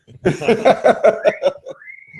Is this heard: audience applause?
no